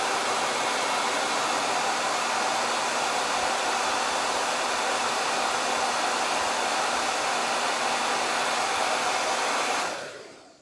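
A hair dryer blows steadily on a shirt to dry fresh paint, a loud continuous airy roar held for about ten seconds before being switched off and fading out, close to the listener.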